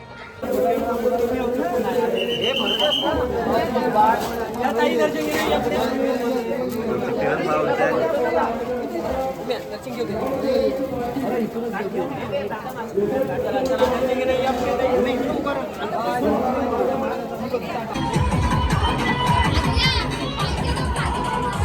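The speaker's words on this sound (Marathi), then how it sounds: "पावसाळ्यात किती गर्दी आहे" A dense crowd murmurs and chatters without a break at the big annual village fair in Sukadar near Dapoli-Khed during the monsoon, with children's voices now and then and a louder, closer burst of noise near the end.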